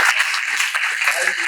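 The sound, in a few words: audience applause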